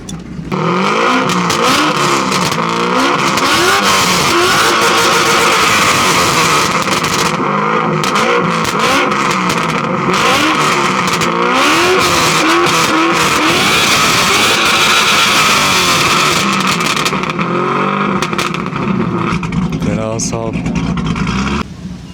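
A Corvette engine roars and revs loudly and continuously, rising and falling in pitch, with people talking over it at a car meet.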